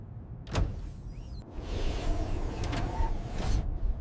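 A sliding door opens with a sharp mechanical burst followed by a smooth whirring glide and a few clicks, close and moderately loud with no voices.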